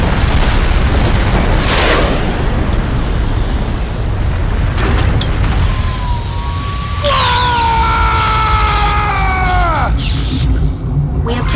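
A heavy explosion bursts as a destroyed target blows apart in the Zone of the Enders 2 video game, a loud rumbling boom followed by layered game effects and a falling alarm-like tone.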